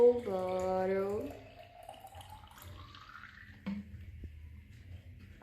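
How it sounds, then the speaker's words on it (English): Water pours into a plastic bottle, its gurgling tone climbing steadily in pitch as the bottle fills, then it fades to faint trickles and a small knock. "First, you're gonna open the bottle, gonna put some water inside."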